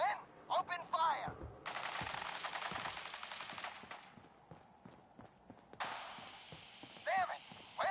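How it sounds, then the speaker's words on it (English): Rapid automatic gunfire from the Fallout video game during a fight with Boston Police, sustained bursts of shots crackling over game sounds and brief voice-like calls, moderately faint. "Men, open fire."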